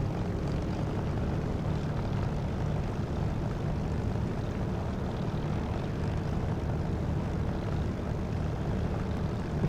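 A propeller aircraft engine in the DCS flight simulator drones in a steady, loud, unbroken roar, with the rushing hiss of prop wash layered over it and no talking.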